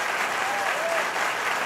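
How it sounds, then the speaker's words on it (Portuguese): An audience claps steadily and densely for pastor Marcelo Rezende at a church community gathering, a continuous wash of applause at even loudness for the whole stretch. "Uma salva de palmas, por favor."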